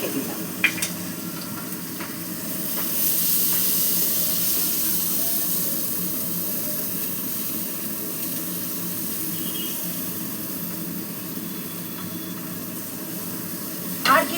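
Chopped onions with green chilli sizzle in hot oil in a pan: a steady, moderately loud frying hiss that runs throughout, broken by a few soft clicks near the start and end.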